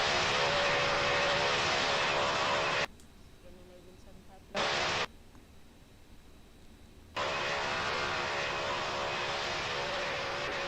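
A loud, broad jet roar from aircraft at Greater Rockford airport near runway 25L cuts off abruptly twice into near silence, then returns at full strength.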